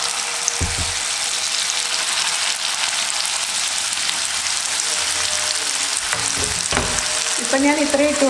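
Kuzhalappam, a Malabar rolled snack, fries in hot oil with a steady, dense sizzle throughout. A few light clinks and stirring knocks come toward the end.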